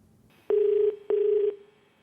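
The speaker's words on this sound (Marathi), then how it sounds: "भरत जाधव यांना फोन लावण्यात यावा." On a TV quiz game show set, a phone call rings out with two long, steady ringback tones separated by a short pause, clear and close.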